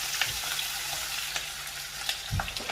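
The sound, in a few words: sizzling oil in a pan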